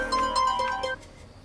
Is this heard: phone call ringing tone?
yes